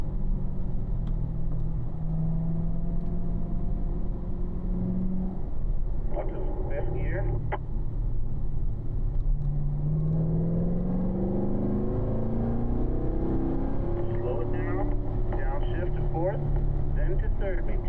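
A Chevrolet Corvette lapping a race track, its engine droning steadily with pitch dips and rises as it brakes and swings through corners, heard from inside the car.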